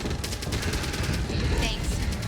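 Rapid automatic gunfire in the zombie shooter Back 4 Blood crackles continuously in dense bursts, loud and close, with a voice speaking over it.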